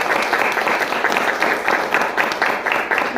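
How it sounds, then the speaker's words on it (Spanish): Sustained audience applause at a book presentation for La Cañada Oaxaqueña, a dense, steady wash of many hands clapping close by with no break for the full length. "¿qué tal si le damos un aplauso?"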